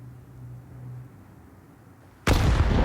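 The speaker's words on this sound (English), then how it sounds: "Oh, that nade is huge." A grenade explodes in a Counter-Strike match, a sudden loud broadband blast after two seconds of quiet low hum, its roar sustaining to the end of the clip.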